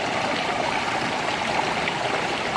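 A small mountain stream flows through forest, a steady close rush of water that runs unbroken and fairly loud with no voices.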